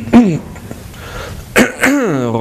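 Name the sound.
throat clearing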